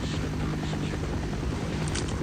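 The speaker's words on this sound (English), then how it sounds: "there's the helicopter where they'll drop down from" Helicopter hovering in the Half-Life game, dropping soldiers beyond an electrified fence; a steady, loud rotor drone with a low engine hum runs continuously and evenly.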